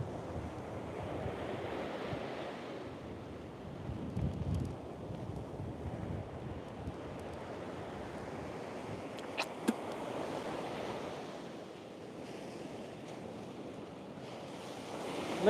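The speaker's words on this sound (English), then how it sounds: "It's a little windy." Steady wind rushing and buffeting against the microphone outdoors, with a low rumble of surf beneath it and no voices.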